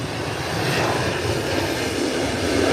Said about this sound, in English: Rolling down the runway. And it's up and away, heading into Dallas.